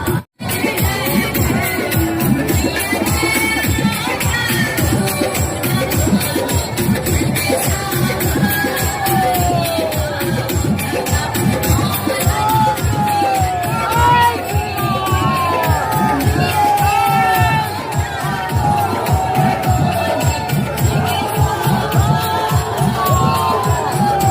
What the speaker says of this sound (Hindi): आप देख सकते हैं यहाँ खचाखच भीड़ भरी हुई है